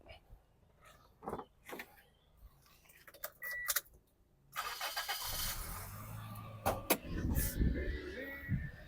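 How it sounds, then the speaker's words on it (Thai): Keys jingle and a few clicks, then a Toyota Altis 1.8G engine cranks and catches, settling into a low, steady, quiet idle with faint voices nearby. "เสียงเครื่องยนต์ก็เงียบๆนะครับผม"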